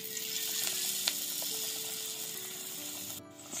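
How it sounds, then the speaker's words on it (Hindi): Pakoras of pui leaves stuffed with potato and coated in gram flour (besan) batter sizzle steadily in hot oil, a continuous soft hissing bubble with no talking. "लगाने के बाद ये सीधा जाएगा गरम तेल में"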